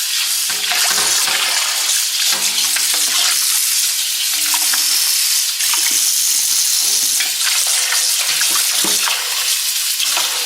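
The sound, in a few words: rinsing turkey wings in cold tap water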